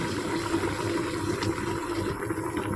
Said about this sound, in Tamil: மறுபடியும் நல்லா கொதிச்சுட்டு இருக்குது